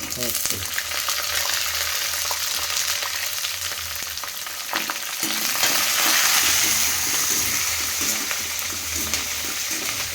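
Sliced onion and four or five green chillies frying in a pan for puffed-rice upma, a loud continuous sizzle with scraping stirring sounds and a brief swell midway.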